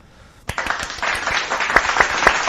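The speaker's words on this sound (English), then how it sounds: "Let's give him a big round of applause." A burst of applause starts suddenly and swells into steady, dense clapping from a crowd, fairly close and loud.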